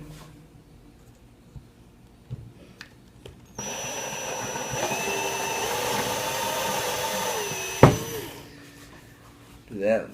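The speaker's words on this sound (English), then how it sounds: "pre-drill the holes in the wood part of the door" A power drill pre-drills holes into the wooden part of a screen door, whining steadily at close range for several seconds before stopping abruptly, with quieter handling sounds before and after.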